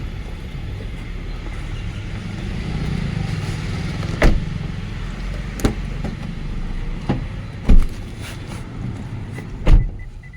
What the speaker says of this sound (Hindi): अब चलते हैं इस वाली गाड़ी में